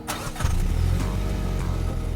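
The 2-liter turbocharged 4-cylinder of a 2017 MINI Countryman Cooper S ALL4 fires up with a quick crank, then settles into a loud, steady, close engine hum with no talking.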